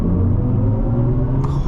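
A 2024 BMW iX M60 electric SUV driving, a loud, steady low rumble and road hum from inside the cabin with a brief higher electronic tone near the end.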